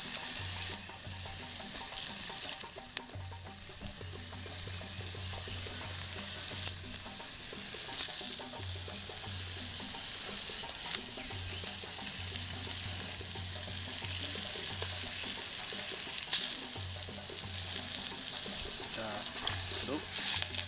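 Food fries steadily in a pan at a forest campsite, with a constant loud sizzle throughout and repeated scraping stirs at intervals.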